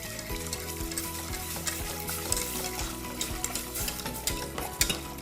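Corn soup with milk is stirred in a pot, the spoon scraping and swishing in steady repeated strokes alongside a low bubbling simmer, close and alone with no voices.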